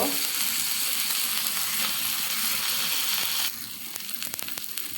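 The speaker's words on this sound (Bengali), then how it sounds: "এখন আমি একটু নেড়ে চেড়ে শুটকি মাছটা গলিয়ে নেব" Dried fish sizzles steadily in a hot pan while being stirred, a continuous close frying hiss that thins out into sparser crackles and scraping near the end.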